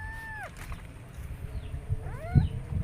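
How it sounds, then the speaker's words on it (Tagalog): A pet cat on a guava farm gives two short, rising-and-falling meows a couple of seconds apart, fairly faint over low outdoor rumble. "Yan po si Cloud, ang aking pusa."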